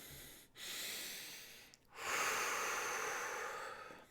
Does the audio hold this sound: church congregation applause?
no